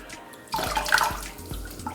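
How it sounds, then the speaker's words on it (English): A synthetic wig dunked into water, with a sudden splash and slosh followed by a couple of gurgling, swishing dips, close and fairly loud. "we're just going to give it a good couple dunks, just to make sure there's no residue left in this wig whatsoever"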